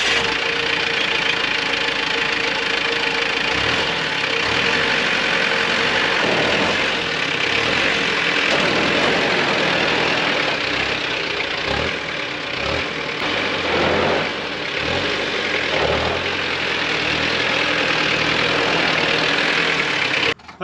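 A cheap left-hand-drive diesel mini truck idles steadily and close by, its engine knocking and rumbling evenly throughout with no talk over it.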